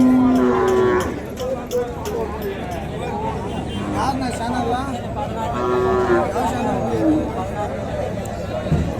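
Cattle moo loudly at the Kundarapalli cattle market, several long lowing calls rising over a constant crowd babble and nearby chatter of people.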